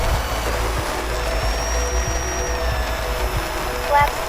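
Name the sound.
FMS Pilatus PC-21 RC model plane taking off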